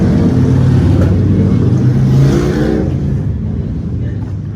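A car driving past at midnight on a Kyiv street, a loud, close engine rumble that swells and then fades away, with a voice faintly underneath.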